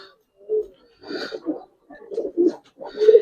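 Giribaz pigeons coo close by in several separate throaty bursts with short silences between them, the last phrase the fullest.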